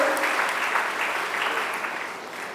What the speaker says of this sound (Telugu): అన్నకు చప్పట్లతో స్వాగతం పలుకుతున్నాం.